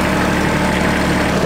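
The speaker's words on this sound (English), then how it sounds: "We're gonna go over to get on the tractor and get mowing." A tractor engine runs at a steady idle, loud and close, with a constant low rumble and vibration, and no talking over it.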